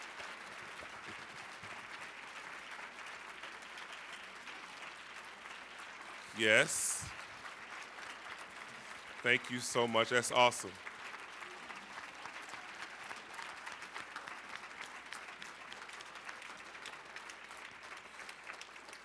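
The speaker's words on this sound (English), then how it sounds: "Let's give our guests another round of applause." An audience at a science center event gives the guests a steady round of applause that runs throughout, while someone speaks briefly over it.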